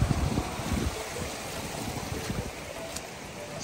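Rushing water of the waterfall at Rodenstein castle ruin, a steady, full, close roar of falling water that holds throughout with no talk.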